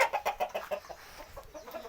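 A fighting rooster at a large Thai cockfighting venue clucks close by in a quick, rhythmic string of short, sharp clucks that slow and soften toward the end.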